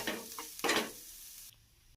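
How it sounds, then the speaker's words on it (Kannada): Onion fries in ghee for a masala rice roti mixture, with two brief close bursts of stirring and sizzle early on, then a faint fading hiss. "ಅದನ್ನ ನೀಟಾಗಿ ಫ್ರೈ ಮಾಡ್ಕೊಳ್ಳೋಣ."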